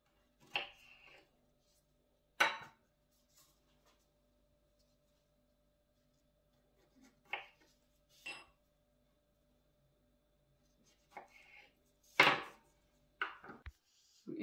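A knife halves hulled strawberries for a no-bake strawberry cheesecake, giving a handful of sharp, separate cuts spaced irregularly through otherwise quiet surroundings, close and fairly crisp.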